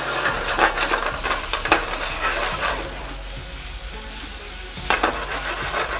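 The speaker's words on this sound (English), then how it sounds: "I'm sauteing them and a little bit of mint." Strawberries with sugar and mint sauté in a hot pan, making a close, lively sizzle broken by stirring scrapes. The sound swells briefly near the start and again toward the end, with no voices.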